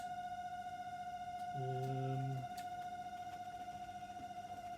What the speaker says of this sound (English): that's the fermenting fridge.